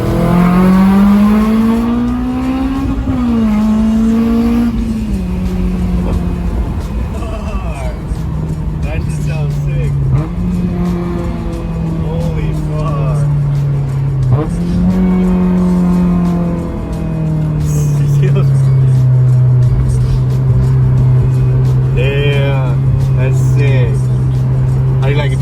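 A Honda S2000 fitted with a straight-pipe exhaust in place of the stock twin mufflers, loud and close while driving, rising and falling with each shift and rev, a voice occasionally heard.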